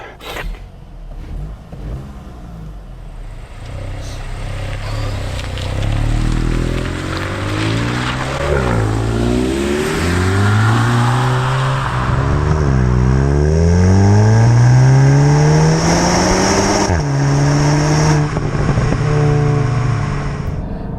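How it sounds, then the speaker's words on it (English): A 2025 Volkswagen Golf GTI Mk 8.5 engine pulls through rising and falling revs while driving, loud and close, swelling steadily through several gear changes over a road-noise hiss, with no voices. "We're here to find out how the Golf GTI drives."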